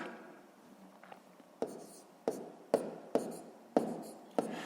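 A pen taps and scratches across paper while numbers are written out for a sixth-grade column addition of decimals, 5.17 plus 7.92. About six distinct, evenly spaced strokes stand out close and quiet in a hushed room.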